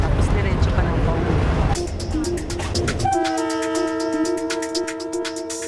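A PNR passenger train running, its rumbling wheels giving way to a loud, sustained horn blast with rhythmic clacking beneath, heard up close with voices under the noise.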